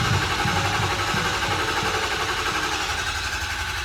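A rebuilt Ford Powerstroke diesel engine running just after start-up, a steady loud rumble with a continuous low-frequency chug and rattly clatter held at an even level, close by, with no talk.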